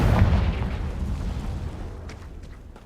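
A Confringo fire spell explodes in Hogwarts Legacy with a heavy, rumbling boom that swells at once and then slowly fades over a few seconds, loud and close, with faint game clicks near the end.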